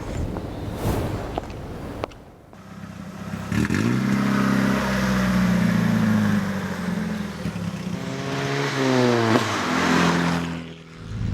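A Haldane kit car built on Ford running gear drives past, its mid-pitched engine rising as it accelerates and revs, then shifting gear and pulling away again, heard close and fairly loud without talk.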